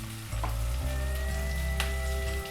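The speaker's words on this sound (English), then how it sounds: "It's just going to sizzle for about a minute." Onion sizzling hard in a hot pan with cumin for spiced potatoes, a loud continuous fry with a low steady hum and no voices.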